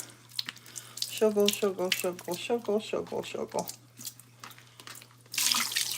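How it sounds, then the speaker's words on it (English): Tap water runs into a kitchen sink being filled to rinse dirty produce, a steady near splash and hiss at the start and again at the end, with a person talking over the middle. "I fill it with water, and then I sugar it."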